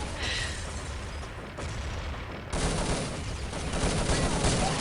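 Rapid bursts of gunfire from a competitive online shooter match in a ClanBase OpenCup tournament, dense and continuous throughout, growing louder midway, with no talk over it.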